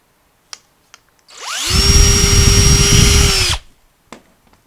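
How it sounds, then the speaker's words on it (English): A power drill bores a hole into a PVC A-frame sign: a couple of faint clicks, then a loud steady whirring run lasting about two seconds, winding down before a final click. "I'm going to drill my first hole."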